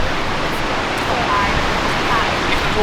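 A real waterfall roars in a steady, loud wash of falling water at a cliff in the USA, filling the whole stretch as a dense, unbroken rush.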